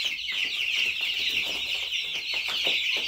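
Baby chickens, a crowd of chicks in a brooder, give a dense, continuous high chatter of peeps and clucks, close and steady throughout with no voices.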